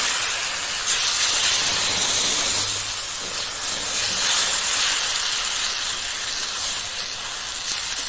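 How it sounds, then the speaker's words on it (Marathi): Batter sizzles steadily on an oiled tawa griddle, a close, continuous bright hiss with slight swells and no voices. "हे आता तव्यावर तेल टाकलेलं का, तव्यावर असं पसरून घ्या."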